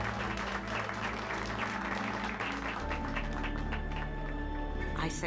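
Applause at a party in the Mass Effect 2 video game, a steady wash of clapping from a crowd that continues throughout, mixed with background game music.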